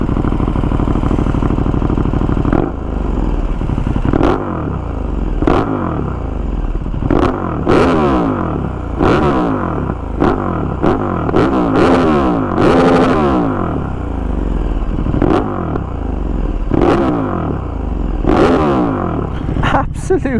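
A 2020 KTM 1290 Super Duke R with an Austin Racing V3 Mini 200mm exhaust is revved repeatedly, deep throaty blips rising and falling in sharp bursts over a continuous loud idle, close and alone.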